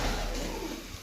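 Pigeons at a bird sale in Gujrat, Sarai, including golden and desi breeds, give brief soft coos against a steady broadband background, fairly close and with no talk over them.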